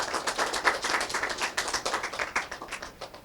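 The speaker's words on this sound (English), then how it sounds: "I want all of you to give yourselves a clap for your hard work and for your efforts" Participants at a filtration competition award ceremony applaud, a lively scatter of distinct hand claps from a modest crowd, fairly close and continuous with no talking.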